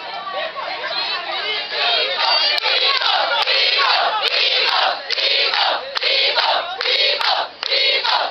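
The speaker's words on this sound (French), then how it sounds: "Vous allez crier Pico. Vous allez applaudir pour leur dire merci." A crowd at an introduction shouts together and claps, loud massed voices in repeated rhythmic chant-like bursts with hands clapping underneath, near and energetic throughout.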